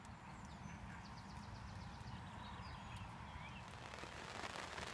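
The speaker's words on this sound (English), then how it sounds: "As you can no doubt hear, it's raining." Heavy rain falling steadily in darkness at a night fishing spot, a dense continuous patter and hiss filling the whole scene without pause, no voices.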